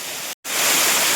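Waterfall near Karjat during the monsoon, a dense, steady roar of falling water that fills the sound up close, with a brief dropout of near silence before the rush returns and swells slightly louder.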